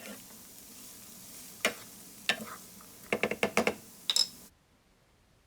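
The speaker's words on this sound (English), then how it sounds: "Added the coconut oil to the pan and started sauteing my onions." Onions sautéing in coconut oil in a pan give a soft, steady sizzle beneath a scattering of sharp knocks and spatula scrapes against the pan, clustering near the end before cutting to silence.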